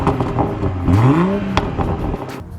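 A 2020 BMW M340i xDrive revs through its dual exhaust tips, a close, loud engine note rising quickly in pitch and then settling, with no talk.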